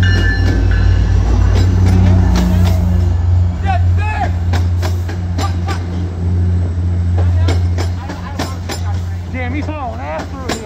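An MBTA F40PH-3C diesel locomotive, number 1057, hauling an outbound train to Rockport, rumbles past with a deep, steady engine drone, while excited voices shout and cheer over it throughout.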